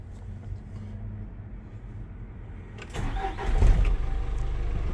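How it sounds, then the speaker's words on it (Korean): Engine of a used Mighty 2.5-ton low-floor cargo truck with about 190,000 km, starting up partway through and settling into a steady, fairly close idle after a quieter stretch of low background rumble. "엔진 소리도 네, 굉장히 좋습니다"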